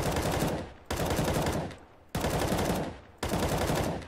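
Counter-Strike: Global Offensive gunfire comes as four loud, close bursts of rapid automatic shots, each about a second long, separated by short tailing pauses.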